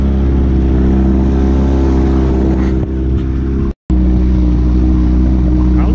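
A fishing boat's outboard motor idles on a foggy lake during cold-front bass fishing, a loud steady low drone with constant hum throughout, briefly cutting out near the end before resuming.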